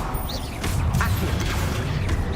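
Casting the Accio summoning spell in Hogwarts Legacy, a mechanical, creaking whoosh that swells after a brief lull and continues with rustling magical texture through a busy game soundscape.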